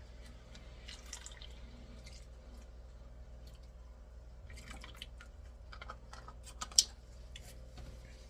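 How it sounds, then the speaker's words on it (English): A splash of beef broth poured into a pan while making roast beef French dip: faint, brief liquid drips and splashes in short scattered bursts over a low steady background hum. "We're going to put a splash of beef broth."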